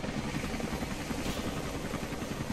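A heavily armed helicopter in the video game Rise of the Tomb Raider thumps with a loud, steady rotor chop and engine drone, close and continuous throughout.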